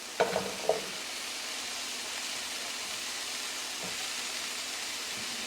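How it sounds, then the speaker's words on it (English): Christophene and carrots stir-frying in a hot pan over medium-high heat, a continuous broad sizzle opening with a few sharp clatters as the vegetables go in. "Next, we're going to go in with the more tough vegetables. So I've got the christophene. I've got my carrots."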